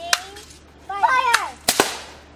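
A BB gun fires outdoors in the mountains and a balloon pops downrange, giving a few sharp, loud cracks spread across the moment, with brief whistling or squeaky tones between them.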